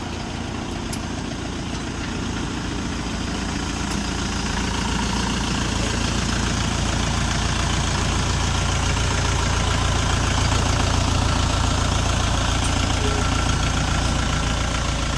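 A small Dongfeng 404 G2 compact tractor engine idles steadily and close by, a continuous rough rumble with no talking over it.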